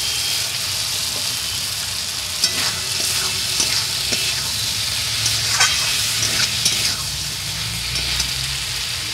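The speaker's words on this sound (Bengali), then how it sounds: "এবার পটল আর আলু ভাজাটা দিয়ে দেবো।" Fried pointed gourd and potatoes tossed into a spice paste with ground peanuts, sizzling loudly and steadily up close while a spatula scrapes and stirs at intervals, with no talking.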